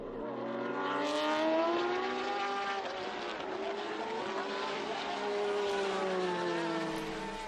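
FIA WEC race car pulling out of the pit lane in Mexico, engine note climbing and shifting through rising harmonic sweeps, loud and close, sustained for several seconds with crowd-like background noise.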